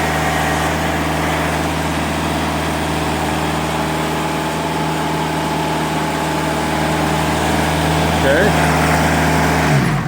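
Diesel engine on a Timberking sawmill runs as a loud, steady close-up drone with a low hum, then its pitch shifts near the end as the throttle changes; a person talks over it.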